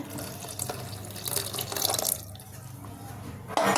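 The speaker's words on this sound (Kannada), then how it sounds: "ನೀರು ಹಾಕೋತಾ ಇದ್ದೀನಿ ನೋಡಿ." Water poured into a mixer jar of vegetable dosa batter, a close running splash that rises and then eases, ending with a sharp clatter.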